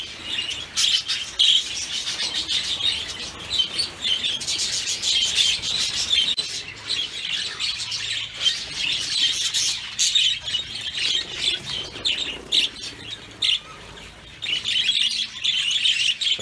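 Many birds chirp and squawk continuously in an outdoor aviary, a dense, loud chorus of shrill calls with occasional harsher squawks and no voices.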